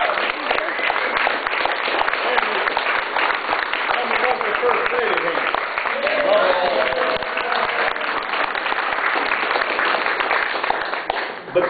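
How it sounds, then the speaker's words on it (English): Steady applause from a church congregation at Trinity United Church of Christ honoring the pastor, Dr. Jeremiah A. Wright Jr., a dense continuous clapping that fills the room throughout at even loudness. "And give him a round of applause."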